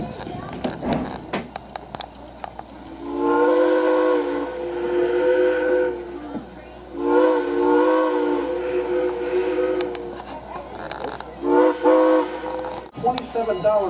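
Steam locomotive whistle on the Strasburg Railroad, sounding in three long harmonic blasts with short gaps, distant and ringing over background rumble of a moving train.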